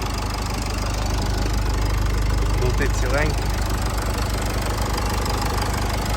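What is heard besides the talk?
car engine running at idle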